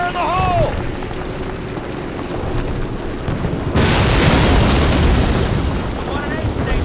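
Explosive charges detonating in Call of Duty (2003): a heavy boom about midway bursts over a noisy battlefield din, with shouting voices in the mix.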